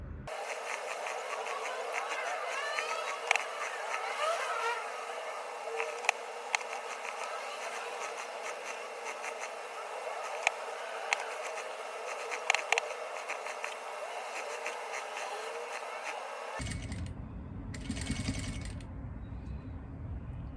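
A sewing machine stitches a seam on fabric for a placemat, a steady close mechanical whir with light ticking running nonstop for about sixteen seconds before the sound shifts to a deeper, rougher hum.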